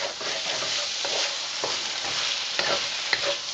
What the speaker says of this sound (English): And I'm going to stir this